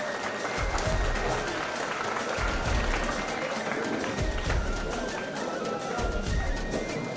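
Audience applause at a school annual prize-giving ceremony, a dense sustained clapping from a crowd that fills the whole stretch without letting up, loud and close.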